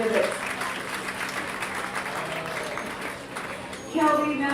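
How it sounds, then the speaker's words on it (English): Crowd at a Utah county fair livestock show applauding the exhibitors, steady moderate clapping with a voice breaking in over it at the end. "Let's give these exhibitors a big round of applause"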